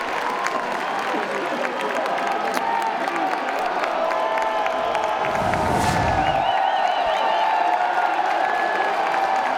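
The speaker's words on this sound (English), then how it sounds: "Listen to this crowd on 3-1" A college baseball crowd at a UNC versus ECU game roars steadily on a 3-1 count, a dense wash of cheering, whoops and clapping that stays loud throughout with a brief sharper swell midway.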